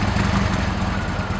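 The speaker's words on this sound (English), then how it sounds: "So there she is, just idling, and you can tell the exhaust isn't all that loud" Harley-Davidson Adventure Sportster idling with a Heinz SS2R exhaust and quiet spark-arrestor canister: a steady, loud, close engine rumble with an even low throb, no talking.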